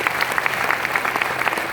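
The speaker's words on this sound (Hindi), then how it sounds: "एक जोरदार ताली।" Loud, dense audience applause, many hands clapping in a steady, continuous patter that fills the whole moment without pause.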